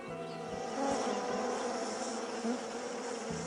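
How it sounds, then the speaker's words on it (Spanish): Honeybees buzzing near their hive in a nature documentary, a dense, steady swarm drone with individual insects rising and fading close by, no voices over it. "Si la abeja avanza zumbando, está indicando la dirección"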